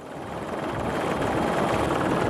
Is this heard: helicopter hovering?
yes